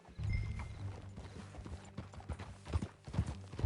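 Horse hooves clip-clopping at a steady walking pace in Red Dead Redemption II, fairly close, with a faint snort or whinny in the background and no talking.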